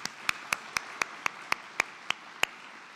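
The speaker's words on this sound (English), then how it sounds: "Yes, let's clap for them." Sparse hand claps at a press conference inside the Palisades nuclear plant in Michigan: about ten sharp, separate claps in a steady rhythm, fairly close and moderately loud over a quiet room, with no crowd swell.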